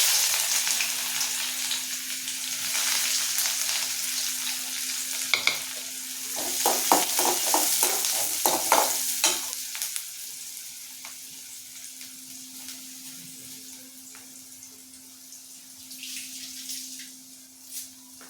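Fennel seeds and onions sizzle in hot oil as the tempering for a paruppu urundai kuzhambu, a close steady hiss with bursts of spoon scraping and clatter in the middle, then a quieter fry with a low hum underneath.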